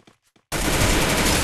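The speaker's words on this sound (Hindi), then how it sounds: "हेडशॉट अनुराग" Sustained rapid automatic gunfire from the Garena Free Fire video game erupts loudly after a few faint taps, continuing without a break to the end.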